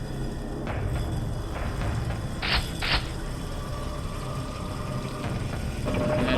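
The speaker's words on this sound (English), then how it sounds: "And then it's also an elevator." An elevator mechanism in the Quake mod Tremor grinds and creaks steadily, with two sharp mechanical clanks in the middle of its run and a low continuous rumble underneath.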